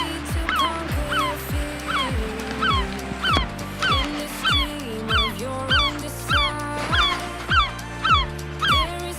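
A seagull calls over and over in loud, repeated yelping cries with a steady rhythm, close by, against a low background hum from a drone.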